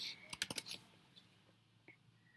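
A quick burst of several clicking keystrokes on a computer keyboard, close and fairly faint, followed by a few isolated clicks.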